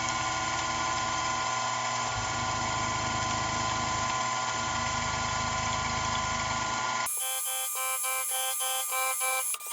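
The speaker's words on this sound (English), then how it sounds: "it's just cutting the dovetail" A metalworking machine cuts a dovetail in metal, a steady loud motor drone with a rhythmic pulsing underneath that shifts abruptly into a different higher whine near the end, with no talking.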